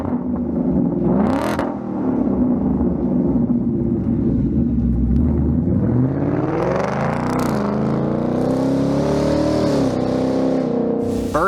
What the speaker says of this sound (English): Adding a Pypes exhaust system to your S650 Ford Mustang GT is a great way to add sound and performance.